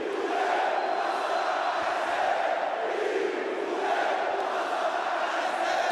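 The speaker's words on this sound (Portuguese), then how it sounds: "Todo o ginásio cantando!" A packed gymnasium crowd at a futsal match cheers and sings in unison, a loud, continuous roar of many voices with a rhythmic swell to the chanting.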